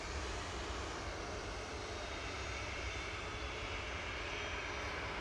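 An Airbus A321 jet airliner departs Manchester Airport, its engines giving a steady, broad roar that holds at the same level from start to finish.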